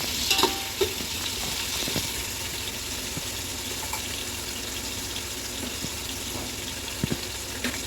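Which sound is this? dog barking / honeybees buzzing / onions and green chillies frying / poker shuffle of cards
onions and green chillies frying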